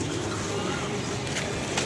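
Pigeons coo softly and steadily in a low, continuous murmur, close by, under faint background voices.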